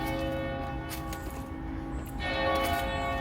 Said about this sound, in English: Church bells going off here.